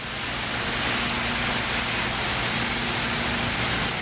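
SR-71 Blackbird jet engines spooling up on the tarmac during start, a loud, steady, broadband roar with a sustained whine running unbroken throughout, no voices.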